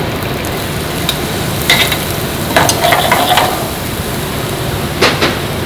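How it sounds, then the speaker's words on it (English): Onions sauté in oil in a pan, a steady close sizzle and hiss with occasional scraping and stirring clatters of a utensil, no talking. "We're going to saute up a little bit of onions here."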